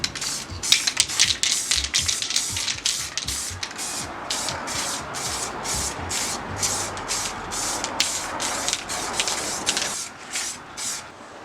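Rhythmic bursts of a spray gun laying down a first coat of paint on rebuilt boat components, each hissing pass starting and stopping in a steady pattern over a low background hum, close and fairly loud.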